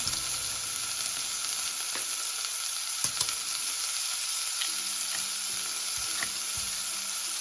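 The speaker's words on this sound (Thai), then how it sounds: "เอาลงไปผัดตอนนี้มันจะได้หอมๆนะคะ" Black peppercorns stir-frying in pork steak sauce, a continuous bright sizzle with a few sharp spatula taps and scrapes toward the end, close and steady without talk.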